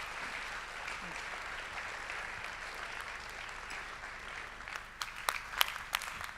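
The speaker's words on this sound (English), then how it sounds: "let's give Manuel a big round of applause" Audience applause at a culture summit for a performer named Manuel, a soft continuous patter of clapping that grows into a few sharper, closer claps near the end.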